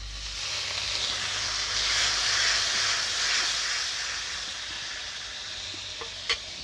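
A splash of water hits a hot pan of sizzling spice mix with chopped tomato, releasing a loud, steady hiss of steam that slowly fades, with a couple of faint clicks near the end.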